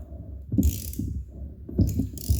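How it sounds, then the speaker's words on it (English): A ratchet is turned by hand to rotate a Raptor 660 ATV engine over during a valve adjustment, giving two close bursts of dense mechanical clicking separated by a short pause. "Now I'm going to rotate the engine over 2 full turns to also ensure that I'm on the compression stroke"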